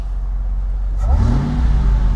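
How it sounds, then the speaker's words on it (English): 2002 Ford F-150 SVT Lightning pickup with a supercharged engine, idling deep and close before a sharp rev swells the exhaust note to a loud, throaty rumble. "So the exhaust sounds great"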